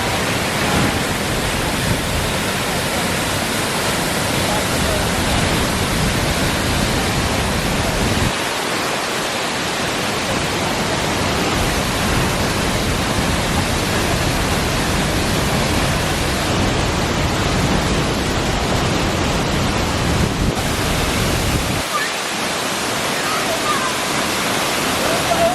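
A loud, constant roar of rushing, falling water from a waterfall near the Batad rice terraces in the Philippines, a dense wash of noise that barely shifts from start to finish.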